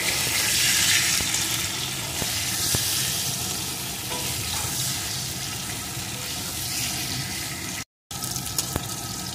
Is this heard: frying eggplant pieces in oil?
yes